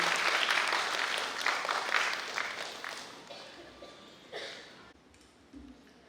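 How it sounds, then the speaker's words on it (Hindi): An audience at a women's participation program in Ranchi, Jharkhand applauds Dr. Shobha Vijender, with dense clapping that starts loud and gradually thins and fades, ending in a few scattered claps. "जोरदार तालियां एक बार डॉक्टर शोभा विजेंद्र जी"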